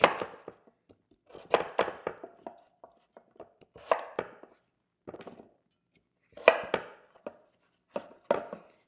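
Peeled beets being cut into large cubes with a knife on a board, a series of close, sharp chopping thunks in irregular bursts, with no one speaking.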